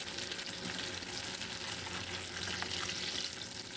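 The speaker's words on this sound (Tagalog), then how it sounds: "You have to fry it carefully because it can get easily be broken." Dried fish (tuyo) frying in hot oil: a steady, fairly quiet crackling sizzle runs throughout without pause, and nobody speaks.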